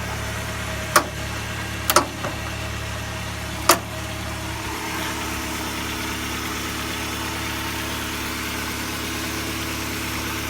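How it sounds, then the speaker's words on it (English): A Mercedes W202 C180 engine idles steadily with the hood open, a low, even hum heard up close, interrupted early on by three sharp knocks or clicks before settling into a smooth, uninterrupted running note. "And here we see how that engine is running."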